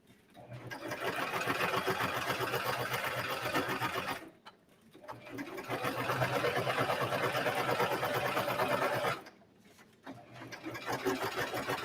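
Top stitching on heavy four-way athletic knit leggings, a sewing machine hums in three long, steady close runs, each pausing briefly before starting again, with no talking over it.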